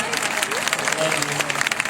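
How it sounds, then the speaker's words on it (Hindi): A short burst of applause from women in a festival crowd, clapping steadily and fairly close while a voice carries on over it. "बहनों तालियां बजा दो"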